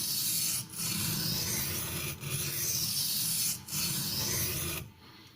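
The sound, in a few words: Sharpening a 440C steel knife on a Norton India stone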